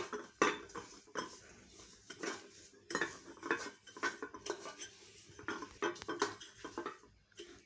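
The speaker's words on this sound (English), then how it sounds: "I would highly recommend you dust it off with some all-purpose flour. So let's brush it really nicely." A pastry brush scraping and tapping inside a floured metal cupcake pan, repeated light metallic clinks and scrubbing strokes in an irregular rhythm, close and fairly quiet.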